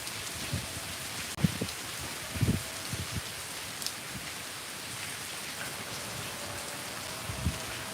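Rain falls steadily over a village in Devbhoomi Dwarka, a soft continuous hiss with a few scattered louder drops and thumps, faint and distant, with no voices.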